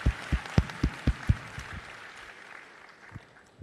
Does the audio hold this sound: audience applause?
yes